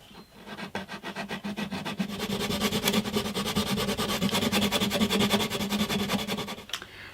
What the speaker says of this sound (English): I think it's a job for a precision sanding block.